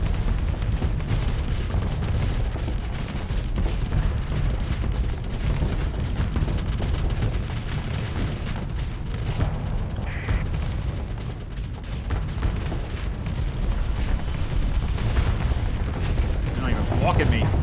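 Dense, continuous gunfire and explosions from point defense guns shooting down missiles in the space combat game Starsector, a steady loud barrage of rapid shots and booms with no pauses.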